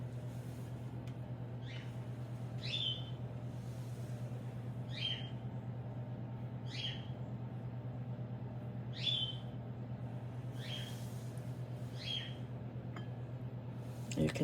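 Pete, a pet bird, complaining in a kitchen while biscuits are being made: about eight short, squawky chirps repeated every second or two, faint and somewhat distant over a constant low hum.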